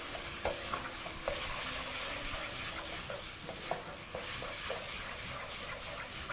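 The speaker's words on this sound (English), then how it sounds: "Proceed to fry everything together" Minced meat frying over high heat in a pan, a bright, even sizzle with intermittent scraping and tapping as it is stirred, close and steady, no voices.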